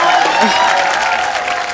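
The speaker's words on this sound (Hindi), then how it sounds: "जोरदार तालियां हो जाए" A studio audience on a comedy talk show claps steadily throughout, with some crowd cheering mixed in. The applause stays dense and loud from start to finish.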